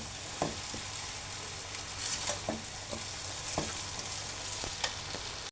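Colorful vegetable noodles stir-fried in oil hiss and sizzle steadily in a pan, broken by occasional scrapes and taps of a utensil tossing them, close up and with no talking.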